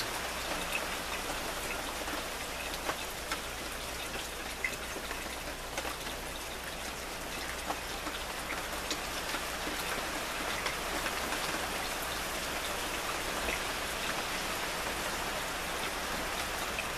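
Raindrops fall in a steady, even hiss of rain on surfaces, with scattered individual drop ticks on top and no voices over the constant soft wash.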